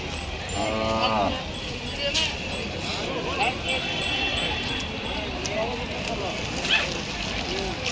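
Bulls and cattle at the Haveri livestock market, with one low moo rising near the start above steady market bustle, faint clatter and people talking throughout.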